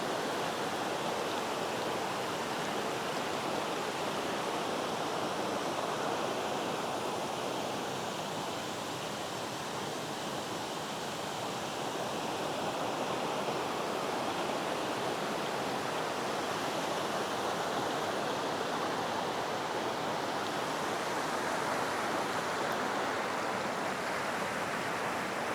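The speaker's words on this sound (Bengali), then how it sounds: "শুধুমাত্র ঝড়, এই নদীর আওয়াজই আমাদের কানে আসছে।" Mountain river, the Mudung khola, rushing beside a homestay in North Bengal, a constant broadband roar of flowing water, loud and unbroken for the whole stretch with no talking.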